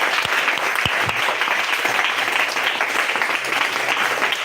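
A church congregation applauds loudly and continuously during a revival service, a dense, sustained wash of clapping from many hands close by, with no voices standing out.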